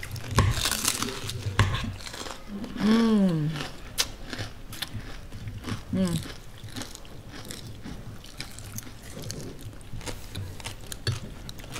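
Kerupuk crackers being bitten and crunched close to the mic, a few crisp bites scattered through, with brief voiced sounds and light dish clinks around them.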